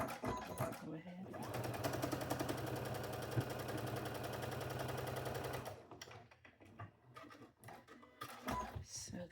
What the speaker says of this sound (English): Sew these pieces together.